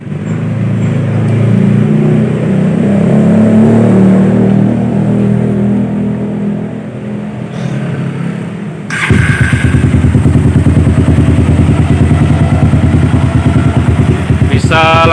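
A bored-up 200cc Suzuki Satria FU motorcycle engine idles loudly up close, its steady pulsing drone growing heavier and rougher after a sharp shift partway through.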